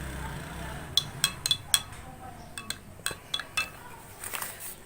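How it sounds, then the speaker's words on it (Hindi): A spoon clinks repeatedly against a glass while stirring cinnamon powder into a chia seed drink, a series of light, quick taps spread irregularly over a faint background. "सिनेमन पाउडर इसको हम डाल के इसको फिर मिक्स करते हैं"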